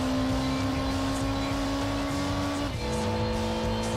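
A race car in Gran Turismo 2 holds a steady, high engine drone, then the pitch drops sharply with a gear change and settles into a lower, continuous roar.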